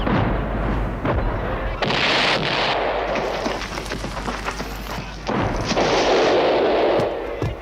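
Booming cartoon cannon and musket volleys fill a classic animated battle, with loud blasts and popping shots rolling on almost without pause, some bursts sharper and brighter than others.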